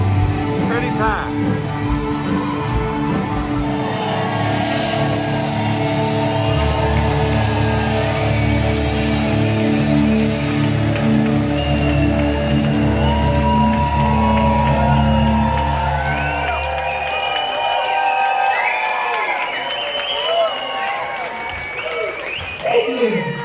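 A packed concert crowd at a show aboard an 80s-themed cruise cheers, whoops and applauds loudly and continuously, the roar fading near the end.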